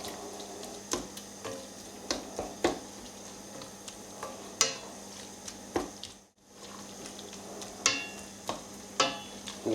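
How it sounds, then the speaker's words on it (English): Mince and onions simmering in a pan for a plate pie, with a soft bubbling sizzle and occasional sharp ticks and clinks of a utensil against the pan, fairly quiet and without speech. "And let that simmer away until it's cooked and onions become nice and soft."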